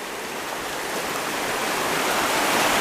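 Big Laurel Creek rushes in a steady, broadband stream of flowing water, close and continuous, growing slightly louder with no voices over it.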